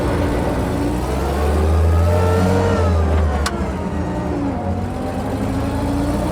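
A Daimler Ferret armored car engine pulls steadily under load in third gear, a low droning rumble that rises and holds as the vehicle accelerates, close and continuous throughout.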